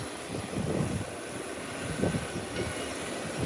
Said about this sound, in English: A small aircraft from the private FBO in front of us is taxiing out to depart.